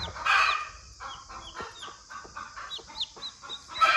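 Naked neck chickens cluck and squawk in short bursts close by, with a couple of louder calls near the start and end.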